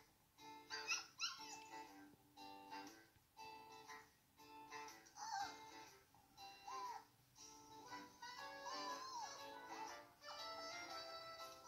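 Dogs barking and yipping with some whimpering, a run of short faint barks scattered across a steady background.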